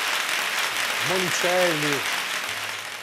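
Studio applause on an Italian television show forms a steady hiss of clapping in the background while someone speaks over it in the middle.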